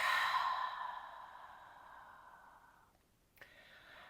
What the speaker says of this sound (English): One more time, inhaling. Exhaling, release.